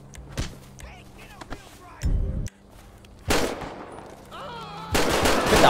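Gunfire in the video game GTA 5 comes as a few sharp, loud blasts in separate bursts, with game sounds and a person talking between them.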